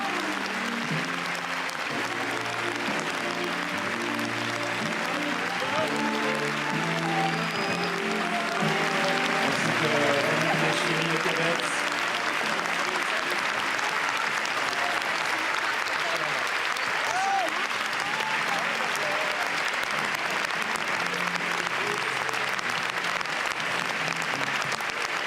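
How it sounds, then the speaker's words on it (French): Long, steady applause from a large audience in the Cannes festival hall as the Saint Laurent film team enters, dense and even throughout, with talk from a commentator running over it. "Applaudis au moment d'entrer dans la salle"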